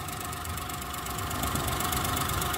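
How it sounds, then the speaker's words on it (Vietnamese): Engine of a 2011 Chevrolet Spark Van with manual gearbox idling smoothly, a steady, even mid-range hum with no shaking or knocking, continuous and close throughout with no talk. "Về phần khoang động cơ thì máy nổ rất là êm, không một chút rung giật gì cả nhé."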